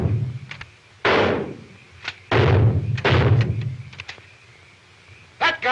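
Gunfire in an old Pacific island war film, a handful of sharp separate shots or heavy thuds spaced a second or so apart, fairly close, with brief quiet gaps between.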